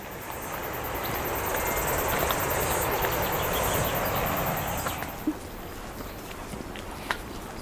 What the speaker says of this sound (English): the sky is full of birdsong and cicadas